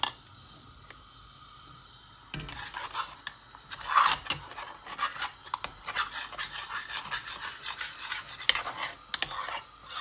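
Eggs being whisked in a bowl for scrambled eggs, a steady run of quick scraping, rasping strokes that starts after a quiet opening and carries on close and fairly loud.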